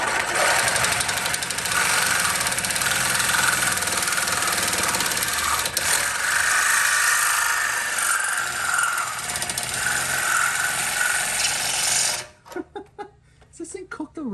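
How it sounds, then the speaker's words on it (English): A reciprocating saw fitted with a cheap blade cuts through stainless steel, a loud, steady buzzing rasp for about twelve seconds before stopping abruptly, followed by brief clattering and handling noises. "We have only the highest quality Sawzall blade here, so we gotta be easy on her."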